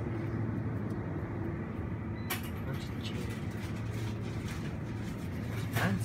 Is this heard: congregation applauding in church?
no